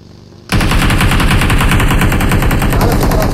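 Sustained rapid automatic gunfire in a shooter video game, starting abruptly after half a second of quiet and running loud and continuous with a steady rattling rhythm to the end.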